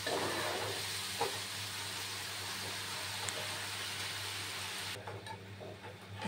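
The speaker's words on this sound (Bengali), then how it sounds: "ওই মাছটারই তেল ঝাল বানিয়ে নিচ্ছি" Fish frying in hot oil for Bengali fish tel jhal gives a steady, close sizzling hiss with faint crackles. It drops off sharply near the end before briefly picking up again.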